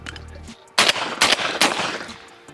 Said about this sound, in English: I thought this gun shot fine from the hip